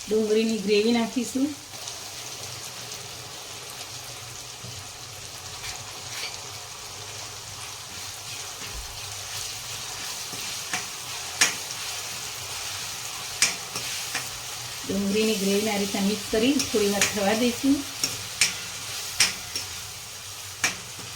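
Tuvar totha mixture of pigeon peas fries and is stirred in a pan, a steady soft sizzle running throughout, with brief bursts of voice-like sound near the start and again later, and scattered sharp clicks of the spoon against the pan.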